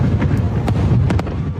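Fourth of July fireworks crackle and pop in a quick scatter of sharp bursts over a low rumbling background, fairly close and loud, with no talking.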